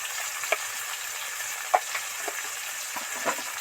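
Pumpkin and Malabar spinach fry in oil with ground chili and turmeric, giving a faint, even sizzle with a few soft stirring clicks and no voices.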